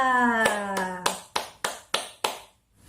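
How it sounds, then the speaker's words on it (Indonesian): Hand claps at a children's worship song for Jesus, five or six sharp, evenly spaced claps following a sung note, close and clear, then a brief silence. "Berikan tepuk tangan buat Tuhan Yesus kita."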